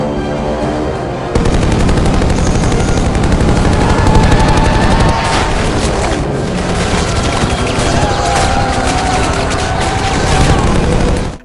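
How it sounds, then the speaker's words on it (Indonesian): Sustained, loud machine-gun fire from the film The Expendables 4 in a rapid, continuous stream with booming impacts mixed in, running for several seconds without pause. "Tembakan brutal dari senapan mesin pun meluncur dan aksinya berlangsung epik dan memukau."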